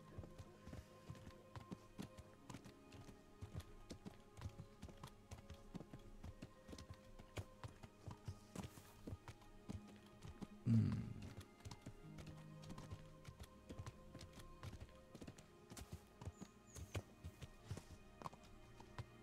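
Horse hooves clip-clop steadily in the medieval video game Kingdom Come: Deliverance, a continuous walking rhythm at moderate volume with one louder thump partway through.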